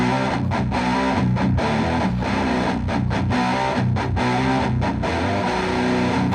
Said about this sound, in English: So as you can hear, I don't have as much distortion on the Socialist Junior pedal